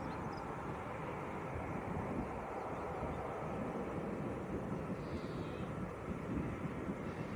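A Boeing 737-800 taxis at Leeds Bradford Airport, its jet engines giving a steady, broad roar that stays level and fairly distant throughout, with a light wash of wind noise over the microphone.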